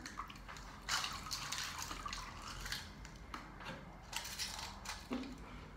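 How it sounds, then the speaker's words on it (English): Small rocks dropped by hand into a container of water for a sinking test, giving a few soft splashes and drips close by, with no talking. "And then I put them in the water."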